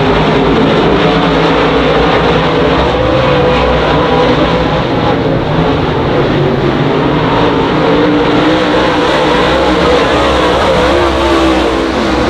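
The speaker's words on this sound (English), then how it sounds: "Battle on for the 2nd position between Jay Baggett and David Tanner as they race them on down into turn number 3" Race cars roar around the oval at Monarch Motor Speedway, a loud continuous wall of engine noise with overlapping cars whose pitch rises and falls as they pass through the turns.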